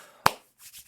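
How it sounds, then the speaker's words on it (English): A single sharp hand clap, close and loud in a quiet room, followed by faint soft rustling. "I wonder how loud that clap is in those AirPods."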